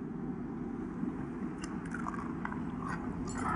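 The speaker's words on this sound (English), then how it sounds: "Stavros, let me try one of those jalapeno thingies." Someone bites into and chews a jalapeno snack, soft crunchy mastication sounds close up over a steady low background hum.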